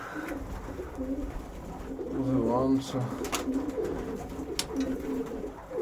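Soft pigeon cooing rises and falls at a pigeon loft over steady outdoor background noise, with a person speaking briefly nearby.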